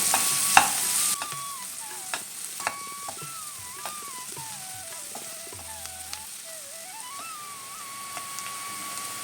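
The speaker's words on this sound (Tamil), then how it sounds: "இப்போ நல்லா வதக்கிக்கலாம்." Chopped onions sizzle steadily in hot oil in a pan, with occasional stirring scrapes and clinks; a faint tonal whine drifts in the background, no talking.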